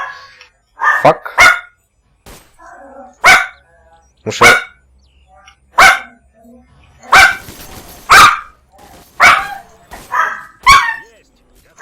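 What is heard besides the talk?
barking dogs in Misery video game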